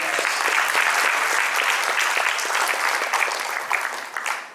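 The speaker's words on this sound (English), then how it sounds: "Please give them a big round of applause." Audience applause in a conference hall for ScooNews at an education forum, a dense, steady burst of many hands clapping that holds for several seconds before thinning toward the end.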